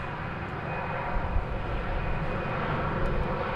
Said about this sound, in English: It's a Airbus A319.